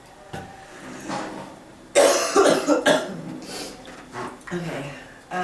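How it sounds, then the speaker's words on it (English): A person coughs several times in a short burst, harsh and close, amid nearby talking voices. "When I get really nervous, I cough."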